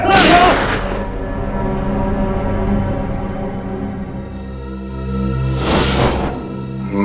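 Two loud gunshots from a Hindi TV crime drama scene ring out several seconds apart, each trailing into a booming echo over a sustained tonal background.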